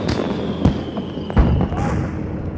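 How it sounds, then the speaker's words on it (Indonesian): Fireworks for a May Day festival go off at a distance, a couple of sharp bangs and crackles over a steady background hum. "suara kembang api itu jauh lebih kencang daripada suara teriakan"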